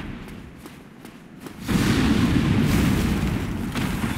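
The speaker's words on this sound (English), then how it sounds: "a dragon's gonna breathe, come down, breathe fire on all of them, and kill me" Dragon breathing fire in the video game Dark Souls: a low, sustained roaring rush that swells suddenly and holds loud, like a booming blast of flame.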